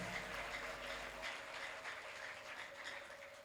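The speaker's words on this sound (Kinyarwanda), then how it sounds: "tuyikomera amashyi, tuyishimire." An audience at a Christmas church service claps steadily, a faint but continuous round of applause heard from within the hall without speech.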